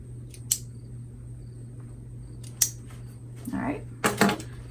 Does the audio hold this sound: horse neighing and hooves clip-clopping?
no